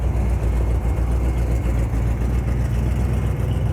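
A 1985 Oldsmobile Cutlass idles at a muffler shop, a loud, steady low rumble with a slightly uneven pulse, close by and without talk.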